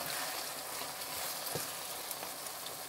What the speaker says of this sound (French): Là, je vais les faire revenir comme ça dans l'huile un bon moment.